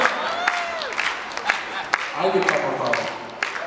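An audience at a live yodel medley performance claps along in a steady rhythm, the beats evenly spaced about half a second apart, while someone talks and calls out over the crowd.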